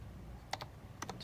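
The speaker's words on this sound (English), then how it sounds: "you are going to type them in" Light keystrokes on a computer keyboard as dates are entered for a finance project, two small clusters of soft clicks in a quiet room.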